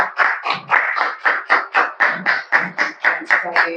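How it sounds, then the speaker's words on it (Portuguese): A church congregation claps together in a steady, fast rhythm during a worship service, about a dozen even claps in quick succession, close and lively. "Aplauda o Senhor em nome de Jesus."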